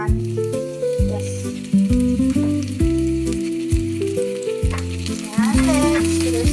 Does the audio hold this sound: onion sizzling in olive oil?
yes